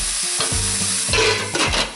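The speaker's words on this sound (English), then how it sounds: "With your veg nicely sizzling away" Vegetables for tomato soup sizzling and crackling as they soften in a hot frying pan, with a spoon scraping and stirring through them, close up and continuous.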